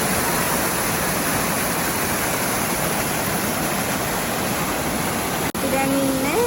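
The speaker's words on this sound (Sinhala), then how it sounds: "ඒකින් තමයි අනගිමල ඇල්ල." Anagimala waterfall in Kanneliya rainforest roars in a constant, loud rush of falling water, running at low flow, with a voice faintly surfacing near the end.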